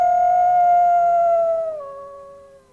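A person imitates wolves howling with one long, sustained, close howl that slowly slides lower in pitch before trailing off alone.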